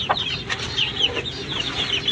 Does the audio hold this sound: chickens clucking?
yes